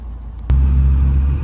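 A car drives along a city road in Taraz. A loud, low engine rumble swells in suddenly and holds steady, heard close from inside the vehicle.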